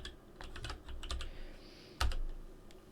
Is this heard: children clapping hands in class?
no